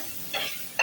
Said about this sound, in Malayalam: തക്കാളിയും കൂടെ ഇട്ട് നമുക്ക് നല്ലോണം വഴറ്റാം.